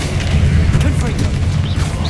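Confringo blasting spell explosion in the Hogwarts Legacy video game, a deep booming burst with rumbling low end, mixed with game sound effects and a brief voice.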